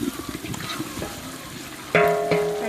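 Water poured into a saucepan of spiced basmati pilau heating on a fire, a sudden loud splashing gush that settles into a steady hissing flow with a rising tone as the pan fills, preceded by faint sizzling.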